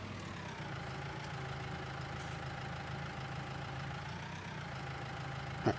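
A deep blue tractor in Farming Simulator 19 idles steadily with a low, even engine drone and faint higher whine throughout, no talk, ending with a brief soft bump.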